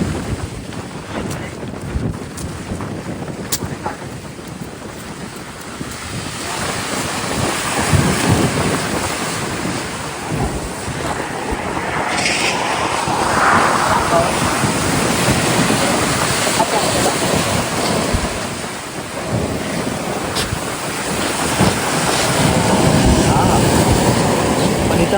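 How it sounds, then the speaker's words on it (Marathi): Strong, cold wind blowing by the water at a go-karting spot, with broadband gusts and rumbling mic buffeting throughout alongside faint waves, steady and loud for the whole stretch. "वाराने खूप गारगार वारा सुटला आहे"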